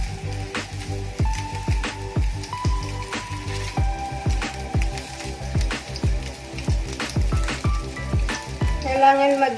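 Turon, sweet banana rolls, frying in hot oil until golden brown, a bubbling crackle punctuated by regular sharp taps and clinks, with a steady tonal hum beneath and a brief burst of clatter at the end.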